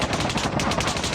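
Gunfire in the mobile shooter game Call of Duty Mobile: a loud, continuous automatic burst of rapid shots, close and dense, with no voices.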